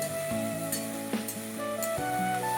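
Ground mustard paste sizzling in hot oil for potol tel jhal, a pointed-gourd curry, with steady frying crackle while it is stirred and a few utensil clinks against the pan, heard close with background music tones.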